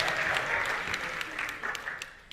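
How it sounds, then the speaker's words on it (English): A seated audience gives applause at a talk, a burst of many hands clapping that is strongest at first, then thins into scattered individual claps as it fades, heard at a moderate distance with a hint of voices underneath. "So can we give a big applause to her?"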